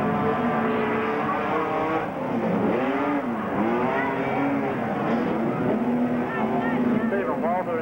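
Speedway race cars at Western Speedway, Hamilton, in 1990, roar continuously around the track, their engine drone rising and falling beneath steady commentator speech throughout.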